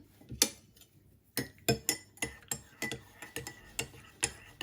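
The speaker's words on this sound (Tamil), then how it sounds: "நான் இதை கட்டி படாமல் கலக்க போகிறேன்." A spoon stirs instant health drink powder into a glass or cup, striking the sides in a quick run of repeated metallic clinks and ticks, close and clear, with no voices.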